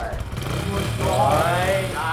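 A person voices a buzzing, rumbling motorcycle engine during a sound-guessing challenge, the imitation rising and wavering in pitch at close range.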